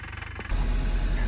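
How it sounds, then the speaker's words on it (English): A diesel engine on a forestry plant machine runs on a frozen road, a steady low rumble that thickens and grows louder halfway through. "So the engine's been running 5 minutes now."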